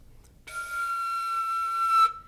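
A single high flute note played with weak air support, held for about a second and a half, unclear, thin and airy with a breathy edge, alone and moderately loud.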